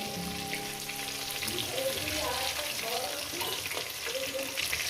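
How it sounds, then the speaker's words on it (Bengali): Gentle sizzling of catla fish frying in oil, steady and moderately quiet, with some faint clinks and background noise. "এই মাছগুলো ওই একইভাবে ভেজে নেব"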